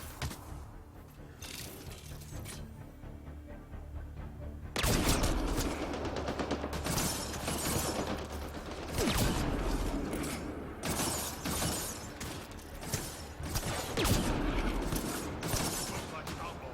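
Sniper rifle fire and loud gunfire bursts in the sci-fi shooter Mass Effect: Andromeda on Insanity difficulty, a sharp blast near five seconds followed by repeated crashing shots and impacts, with game voices and effects mixed underneath.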